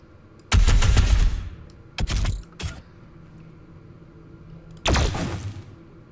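Gunfire from the video game DOOM Eternal: a loud sustained burst, two short sharp bursts, then another loud burst after a quiet stretch, with a faint low hum between them.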